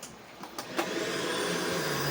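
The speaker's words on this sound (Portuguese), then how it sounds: "A gente vai secar um pouco o pincel com o próprio aspirador de pó." A vacuum cleaner starts up after a few clicks and bumps and runs with a steady whining roar, used to dry a cleaning brush during work on an Acer Aspire E15 laptop.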